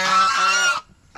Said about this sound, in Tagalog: Gutom na ang Bibi Bagwis.